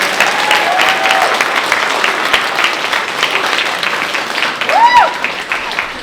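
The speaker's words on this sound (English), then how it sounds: "Another round of applause for our graduating 8th graders." An audience at a school music concert applauds graduating 8th graders, a loud, steady burst of clapping lasting throughout with cheers and voices mixed in.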